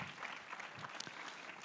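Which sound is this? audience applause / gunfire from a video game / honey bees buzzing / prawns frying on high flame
audience applause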